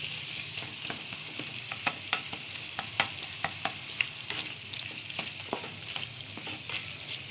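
Tomatoes being stirred in a pan while cooking aloo palak, a steady soft sizzle of frying with repeated scraping clicks of the spoon against the pan, close and alone.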